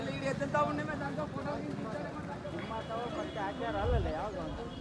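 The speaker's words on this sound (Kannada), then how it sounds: "ನೋಡಿ ಎತ್ತು ಬಂಡಿಗಳಿದ್ದಾವೆ." Bullock cart hooves clop along at a steady pace at the Byadgi chilli agricultural produce market, mixed with loud nearby talking and street noise.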